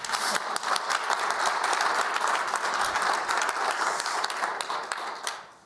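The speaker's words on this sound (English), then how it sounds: "Can we please give him a round of applause?" Audience applause for a guest coming on stage at a Davos World Economic Forum panel, dense steady clapping from a crowd that holds loud for several seconds before tapering off at the end.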